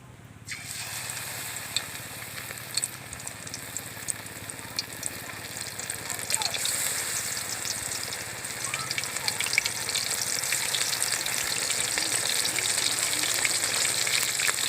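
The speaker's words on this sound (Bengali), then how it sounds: "এবার বাকিগুলো আমি একই রকম করে ভেজে নেব।" Batter-coated lote fish pakoras deep frying in hot oil, a dense bubbling sizzle that starts abruptly and grows louder and fuller as more pieces go in, close and continuous with occasional crackles.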